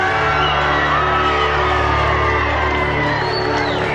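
Crowd of about 2,000 people, some fifty deep, cheering and whooping for President Kennedy, with a steady dense roar of voices and shouts held close and loud throughout.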